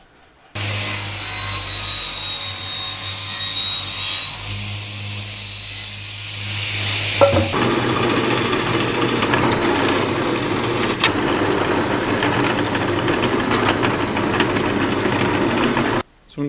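A power saw rips a chunk of treated timber lengthwise down the middle, a loud sustained high whine that turns to a rougher, steady cutting roar before it stops abruptly.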